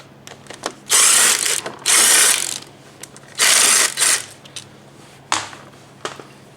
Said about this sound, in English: Now that they're broken loose, this quarter drive should work.